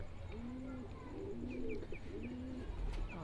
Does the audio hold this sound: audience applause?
no